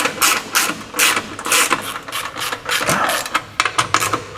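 Bolts on a Mitsubishi L200 transfer box skid plate are tightened with a ratchet, giving quick rhythmic clicking bursts, close and fairly loud, with brief pauses between runs of clicks.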